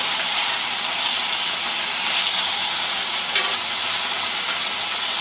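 Meat sears in a hot pan, giving a loud, close, continuous sizzle and hiss that holds steady throughout, with no talking.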